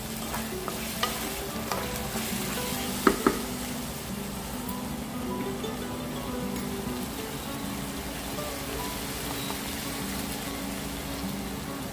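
Softened onions frying in a pan as spices are added and stirred in, a continuous sizzle with occasional spoon scrapes and a couple of sharp clinks, close and steady, no voices.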